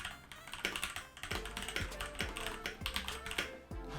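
Close, bright key clacks from a Keychron K4 mechanical keyboard in a quick uneven flurry of strokes with short gaps, fairly loud and with no speech.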